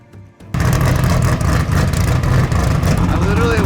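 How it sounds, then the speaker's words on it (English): An off-road King of the Hammers race car engine roars to life after a quiet moment, its exhaust blasting a loud, steady, rumbling stream of air close by, with a voice faintly audible at the start. "There's so much air coming out the exhaust, it's freaking wild."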